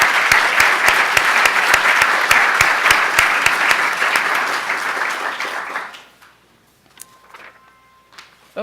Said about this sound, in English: So how about a round of applause for the Tucker team?